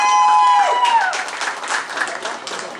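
Spectators applauding at a speedway youth qualifying meet in Krosno, a broad wash of crowd clapping rising after a brief tone and then rippling on steadily, fairly loud and sustained.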